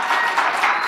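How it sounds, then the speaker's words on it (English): Audience applause at a mayoral forum in Trenton, a steady broadband clatter of many hands clapping together, sustained and fairly loud for under a second with no voices on top. "Please hold your applause"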